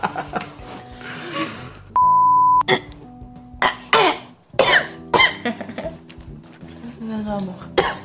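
A few short, sharp coughs burst out close to the mic between bits of casual conversation, with a brief electronic beep sounding early on.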